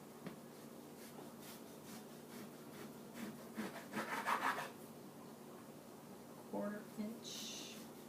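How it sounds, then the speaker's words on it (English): A knife slices beef crosswise against the grain into quarter-inch slices on a cutting board. The rubbing cuts are faint and scattered, with a slightly busier run of strokes in the middle. "so you just want to cut it into 1/4 inch slices"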